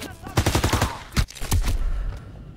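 A machine gun fires from a hayloft in the Call of Duty video game, with a quick rapid burst followed by a few sharp separate shots, loud and close, then fading to ambient rumble.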